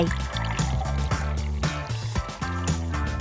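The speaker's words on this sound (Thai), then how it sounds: "เทน้ำส้มลงไป" Orange juice pours steadily into a container over a jelly snack with banana, a continuous liquid stream with gurgling pulses throughout, close and fairly loud.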